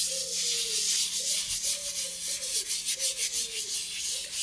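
A brush scrubbing moss treated with bokashi juice, quick rhythmic rasping strokes close by, repeating in short bursts against a faint background tone.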